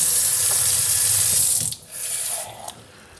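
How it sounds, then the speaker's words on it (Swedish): Water poured from a tap into a 20-centilitre bottle of negroni makes a short, bright rushing stream that stops, restarts briefly and then cuts off. "Så kör vi en skvätt vatten i den här också."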